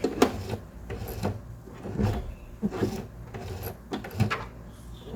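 A sewing machine is turned slowly by its hand crank while stitching a double-sided handbag strap, giving soft, irregular mechanical clicks and thumps at close range at a steady unhurried pace.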